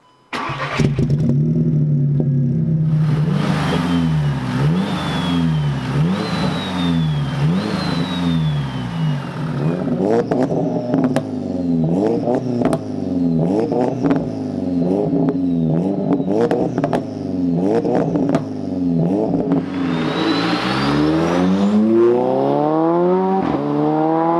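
A big-turbo 538 bhp Mk6 Volkswagen Golf R engine starts, then revs up and down repeatedly in rising and falling sweeps, loud and close, with a whining turbo hum louder than the exhaust.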